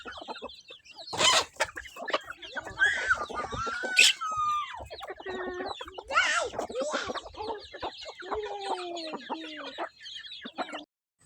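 Native farm chickens cluck repeatedly in a field, with short irregular calls near and far and a couple of louder squawks, while people talk faintly in the background.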